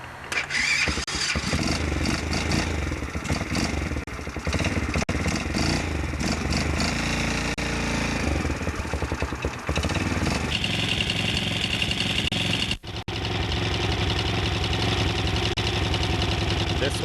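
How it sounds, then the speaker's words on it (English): A Chinese ATV engine cranks, catches and keeps running with a rough, slightly uneven idle and some revving, loud and close throughout with a brief dropout near the end. "So I'll give this one a start and you'll see how she sounds."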